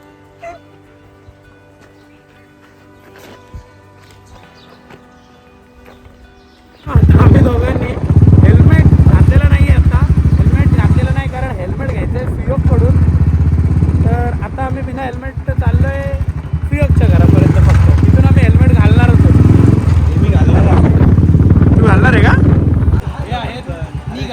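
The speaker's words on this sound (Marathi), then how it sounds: "भावानं आपली दुसरी बाईक पण इथे आलेली आहे" Motorcycle riding on a ride from Navi Mumbai to Shrivardhan: a quiet stretch, then loud, continuous engine and wind rush that stays close for the rest of the ride, with people talking over it.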